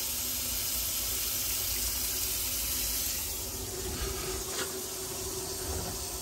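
Tap water pours steadily into a kitchen sink fitted with a newly installed garbage disposal, a constant close hiss and splash running unbroken for several seconds with no voices.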